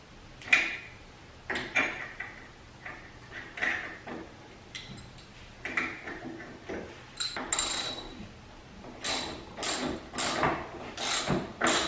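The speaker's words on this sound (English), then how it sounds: "putting the nut on the stud, tighten it down, and pull the stud right into the hub" A ratchet drives a lug nut onto a hub stud on a 2006 Can-Am, pulling the stud into the hub with uneven bursts of sharp clicking strokes and short pauses between them, close and moderately loud.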